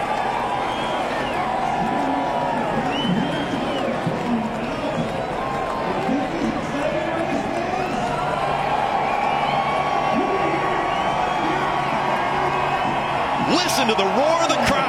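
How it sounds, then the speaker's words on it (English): Crowd roar at a NASCAR race, a sustained broad wash of cheering and whooping that stays loud and steady throughout, with a commentator talking over it. "Listen to the roar of the crowd."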